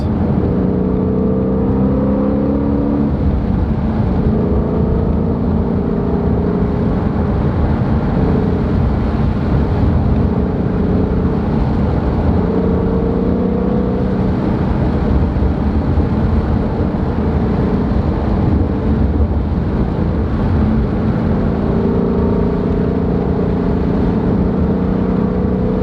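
Ford Mustang GT350 engine driving along winding roads, a loud, steady, droning exhaust roar that holds constant throughout with no talking.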